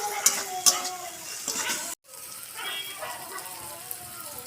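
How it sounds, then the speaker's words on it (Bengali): Onions frying lightly in a pan with a little salt, a soft steady sizzle with a few sharp scrapes of stirring near the start and a brief dropout midway. "পেঁয়াজটা আমি ভালো করে হালকা করে ভাজবো।"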